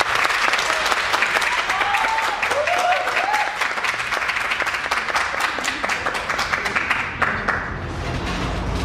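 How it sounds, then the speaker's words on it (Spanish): A theatre audience claps steadily for a performer introduced before a Maya-themed Xibalba storytelling piece, a loud, dense round of applause that carries on for several seconds before thinning toward the end. "Un aplauso para Margarita."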